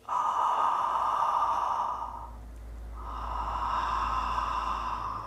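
Two long, slow breathing-exercise breaths with a rushing, ocean-like hiss, each lasting about two seconds, separated by a brief quiet pause, close and loud.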